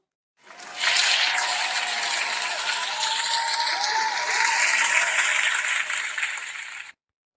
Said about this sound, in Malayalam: എല്ലാവരും വിന്നേഴ്സിന് ഒരു ക്ലാപ്പ് കൊടുത്തേ